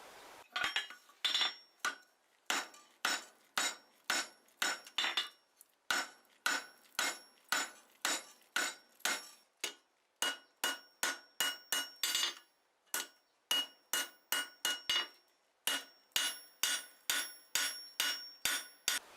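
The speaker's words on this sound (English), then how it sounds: "I'm probably going to start that on the bick using my rounding hammer" A rounding hammer rings on metal over an anvil horn in steady, quick strikes while forging a stag horn hinge, bright and close, grouped into runs with short pauses between bursts.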